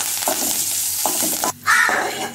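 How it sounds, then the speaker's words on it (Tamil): Steady sizzling of pepper and cumin frying in hot ghee, broken by a few stirring scrapes and a brief pause before the sizzle flares up louder. "மிளகு ஜீரகம், அதை நம்ம வறுத்து எடுத்துக்கலாம்"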